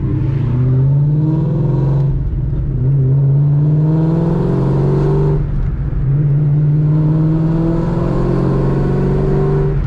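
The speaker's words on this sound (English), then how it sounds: "He is taking the Shelby for a test drive." A 2013 Shelby on a test drive, its loud engine droning steadily close by and dipping briefly twice as gears change before pulling strongly again.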